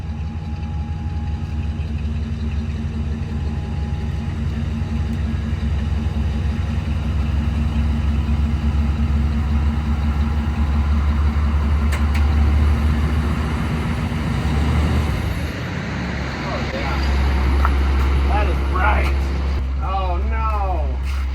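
Engine of a self-built Suburban-based car running at a low, steady idle as it is backed out of a shop, a constant close rumble that shifts in tone near the end.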